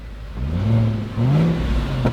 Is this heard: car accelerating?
yes